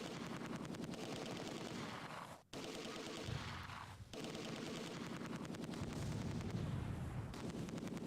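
Sustained AI-controlled gunfire from the World War II strategy game Close Combat 2, dense rattling shots and bursts running almost continuously with a brief gap, mixed with heavier booming reports.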